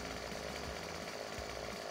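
A chainsaw cutting into a tree in Landwirtschafts-Simulator 15, its engine buzzing steadily and dipping in pitch twice as the blade bites, heard alone and fairly faint.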